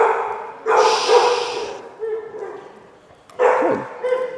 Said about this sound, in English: Just to stop this barking right now, because every time they bark,